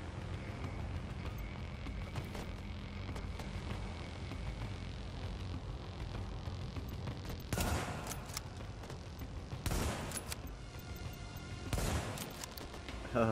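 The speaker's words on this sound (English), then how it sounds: "The sniper rifle I have is very, very powerful, but the fire rate isn't as quick as some of the others of the SVD." Three spaced, heavy gunshots from an SVD sniper rifle in The Division shooter game ring out with slight pauses between them, over a steady bed of in-game background noise.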